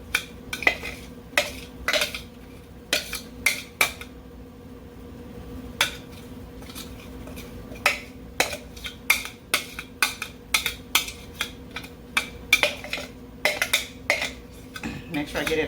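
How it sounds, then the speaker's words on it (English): Chopped ingredients for a chimichurri sauce tossed and scraped into a container, a dense run of close clicks, knocks and utensil taps on the dish, sometimes quick and irregular, with no clear speech. "Toss my ingredients in here like so that I've chopped up."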